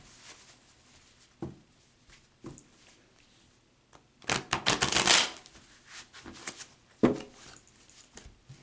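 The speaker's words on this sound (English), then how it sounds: "I'm just going to cut the deck" A tarot deck is cut and shuffled, with a few soft taps followed by a dense riffling burst of cards and a final slap, close and alone.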